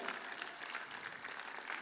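Broad, steady clapping from a convention audience, a soft continuous patter of many hands with no talking over it.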